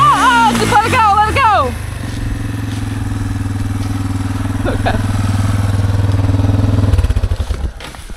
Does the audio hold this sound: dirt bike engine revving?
yes